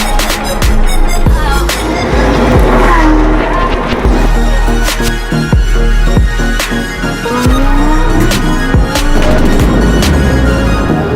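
A Porsche GT sports car driving, with loud engine roar and repeated gear-shift surges, and sharp bursts as it accelerates close by.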